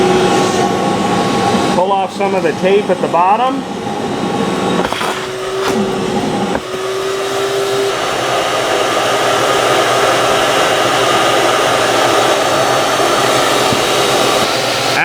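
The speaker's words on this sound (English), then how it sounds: "we're going to go ahead and take our vacuum" A loud, steady vacuum motor whine runs throughout, drawing glue into a furniture joint, with a person speaking briefly early on and some clunks before the drone settles in.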